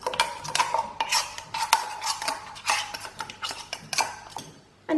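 Pork being stirred and mixed with salt and vindaloo marinade paste, giving a steady run of close, wet clicking and scraping utensil sounds against a bowl, with no talking.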